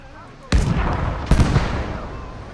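Two heavy cannon blasts from a tank or artillery gun firing HEAT rounds in a WWII France battle video game, loud booming reports about a second apart, each with a long rumbling tail.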